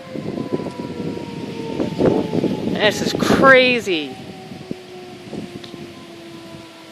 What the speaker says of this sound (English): there's the tornado sirens.